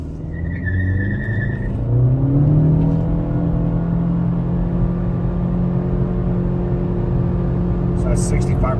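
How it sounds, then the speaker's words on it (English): Car pulling away hard from a standstill, engine note climbing loud and close through the revs, tire noise underneath, with a voice briefly heard. "we'll do a dead stop real fast and a punch"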